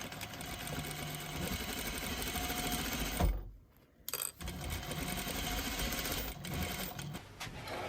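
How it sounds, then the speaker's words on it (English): A sewing machine stitches a quarter-inch seam in fabric for a small-pet tunnel, running with a steady close whir that stops briefly in the middle and then resumes. "I'm going to stitch from here to here on this one, and from here to here on this one."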